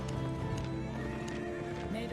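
A riding horse in a PvP video game snorts and whinnies over a steady clip-clop of hooves, with dense game sounds and a voice talking underneath throughout.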